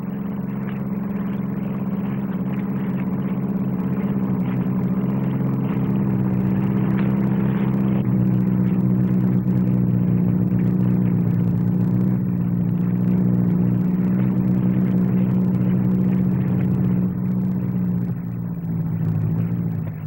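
A 4-ton hovercraft skims low over the runway at Farnborough, giving a steady, loud engine drone with a deep rumbling hum that holds continuously throughout, with no talk.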